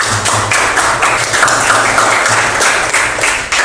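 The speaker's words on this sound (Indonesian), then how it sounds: "tepuk tangan untuk kelompok 2." Steady applause from a classroom of students for a presenting group, dense and continuous for several seconds with faint hum underneath, fairly loud and close.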